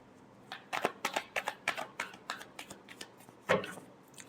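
Tarot cards being shuffled in a series of crisp riffling bursts, about a dozen quick card slaps in uneven rhythm with a louder final riffle, close and alone with no talk.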